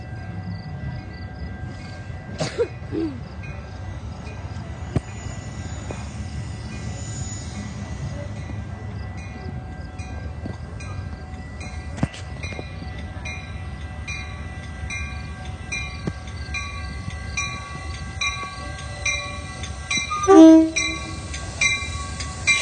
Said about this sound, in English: so Train is leaving now